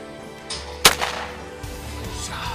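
A single sharp, loud gunshot cracks out during a turkey hunt in the trees, followed by a brief echoing decay over steady outdoor background noise.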